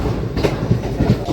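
The 07034 Mysuru–Kakinada special passenger train clatters along in a loud, close, rhythmic rumble of wheels on rails.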